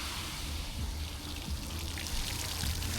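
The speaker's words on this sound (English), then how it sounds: "What a cool water feature." A water feature fountain in a summer town in Albania, with a continuous close rush and splash of flowing water that holds steady throughout and has no talk over it.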